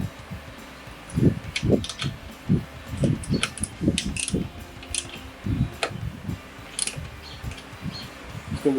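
Rapid ratcheting clicks from tightening the supplied bolt and washer on an MMD styling bar for a 2015-2023 Ford Mustang, coming in short uneven bursts close up with no speech.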